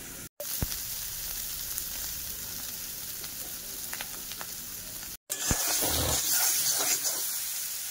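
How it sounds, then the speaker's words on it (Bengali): Flat bean seeds frying with spices, giving a loud crackling sizzle with scattered pops. The sound stops briefly twice and then returns stronger, with no talking. "আমি সিমের বিচির মধ্যে মশলা দিয়ে তারপর একটু ভাজা করছি"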